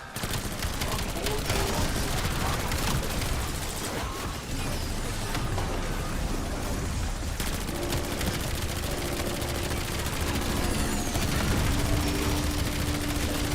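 Rapid gunfire in Call of Duty Black Ops 7, dense continuous bursts and volleys filling the scene at high loudness, with players talking over the shooting.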